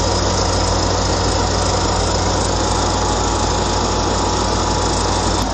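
A John Deere LA105 riding mower engine runs steadily with the cutting deck engaged, a loud, continuous broadband drone with a low engine hum and no surging, alone without talk.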